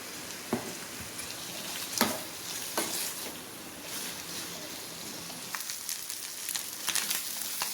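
Chicken liver frying in a pan on an Indian stove, a steady dense sizzle with occasional scraping stirs and clicks of a spoon against the pan.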